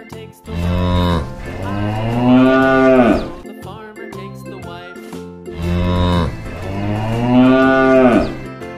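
Two long, loud cow moos, each a drawn-out bellow with a short pause between them, heard close and clear with no talking.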